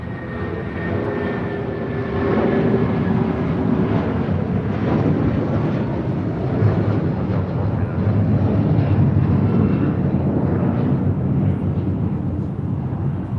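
A United Airlines Boeing 757-200 in California livery takes off from LAX for Newark, its engines producing a loud, sustained roar that builds and holds throughout, with no voices.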